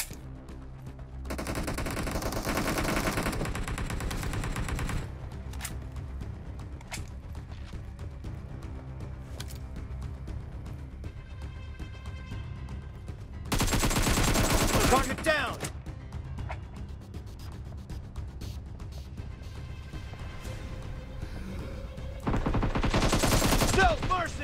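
Rapid bursts of gunfire from a mobile team shooter video game, loud and dense in several long stretches, with steadier game sounds and faint voices in between.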